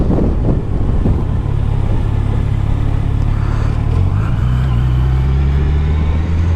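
A 2023 Yamaha FJR1300 ES sport-touring motorcycle being ridden, its engine drone loud and close with a steady low hum that rises in pitch, mixed with constant rushing wind noise and no talking.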